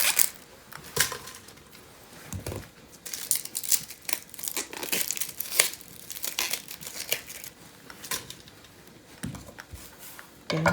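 Papery outer skin being peeled off an onion by hand, making close, irregular crinkling and crackling rustles in short bursts with pauses, and no voices.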